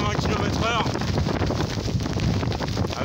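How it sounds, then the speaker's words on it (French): Strong wind, estimated around 80 km/h, roars and buffets the microphone on a bicycle trip to Iran, a steady loud rush with gusts throughout and a brief voice-like sound early on. "il y a un vent là de au moins je sais pas 80 km/h"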